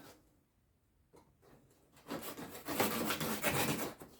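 A blade slides through the cardboard of a brand-new Electrolux Z504 vacuum cleaner box, starting as faint scratching and building into a close, steady rasping cut during the last two seconds.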